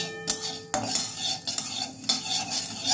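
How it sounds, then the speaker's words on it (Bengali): White mustard seeds and five-spice dry roasting in a wok, with brisk metal stirring scrapes and clinks against the pan and a light sizzle, close and steady, without voices. "এইটাকে আমি ভালো করে একটু ভেজে নেব শুকনো কড়াইয়ে"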